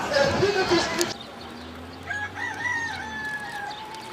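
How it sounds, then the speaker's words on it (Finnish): A rooster crows once near the Church of St. Peter in Gallicantu, Jerusalem, a drawn-out wavering call from some distance, after a brief burst of talking at the start. "Kukko laulaa vieläkin siellä"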